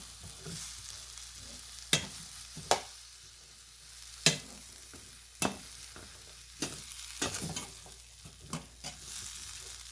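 A spoon scrapes and knocks sharply against a pan as cauliflower and spices are stirred, loud irregular clanks over a soft sizzle, no talk.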